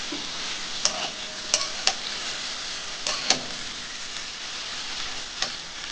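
Cauliflower frying in oil in a wok, a soft continuous sizzle with several sharp metallic clinks of a utensil against the pan scattered across the clip, no voices.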